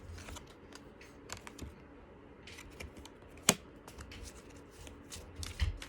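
Cards shuffled by hand for a card reading: soft riffling and clacking bursts come in quick clusters at close range, with one sharper snap midway and no talking.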